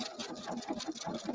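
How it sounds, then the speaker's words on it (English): A sewing machine with a 3 hole yarn foot stitches with gray thread, a brief close run of rapid, even mechanical needle pulses. "let me stitch just a little bit here and then we'll see if we can see it"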